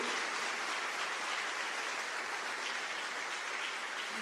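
A church congregation applauds, a dense and steady wash of clapping that fills the whole stretch at moderate volume, with no voices standing out.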